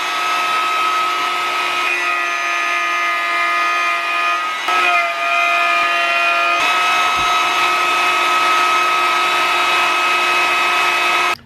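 A power tool runs steadily through a wooden board, cutting a mortise for interlocking wooden toy blocks, with a loud, even whine and a brief dip near the middle before it continues at full level, no talking.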